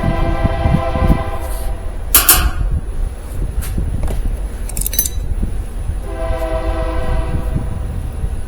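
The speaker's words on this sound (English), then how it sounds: "There's a train going by, Eddie." A train rumbles past nearby with a loud, steady roar, horn tones sounding at the start and again later, with metallic clanks in between.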